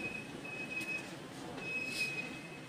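Express train from Tambaram to Mangalore running on the rails, a steady low rumble with a thin high wheel squeal, heard from inside the carriage without talk.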